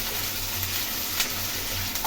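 Mutton liver pepper fry sizzling in a pan, a dense continuous crackling hiss close up with a couple of faint stirring taps, no voices.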